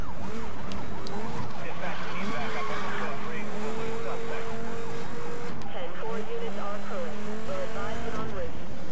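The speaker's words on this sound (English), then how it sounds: "All those cop cars are faster than me." Police sirens wail continuously in the Need for Speed: Most Wanted racing game, rising and falling over engine roar and game noise while a player talks over the action.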